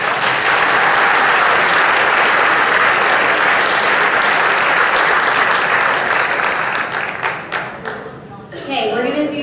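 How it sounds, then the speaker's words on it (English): Loud, dense audience applause for the winner of a final debate, steady and full for several seconds before thinning and breaking up, with a voice starting to speak at the close. "please give a round of applause to our winner, Anthony Berryhill."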